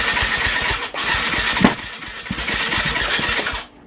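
A 2020 Yamaha YZ250F dirt bike with a no-start fault cranks over repeatedly in a shop, giving a rough, rhythmic chugging that never catches, loud and close, stopping abruptly near the end.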